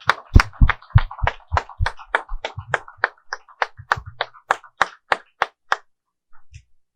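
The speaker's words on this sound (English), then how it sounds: "Can we have another round of applause for our special guest?" Sparse clapping for a special guest at a Tunde Bakare event in Nigeria, sounding like only a handful of hands or a single pair, each sharp clap distinct in a loose, uneven rhythm that trails off to silence.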